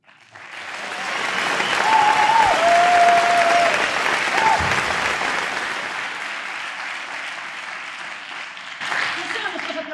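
An audience applauds at a theatre performance, a sustained wash of clapping that swells, holds and gradually thins, with voices calling out over it.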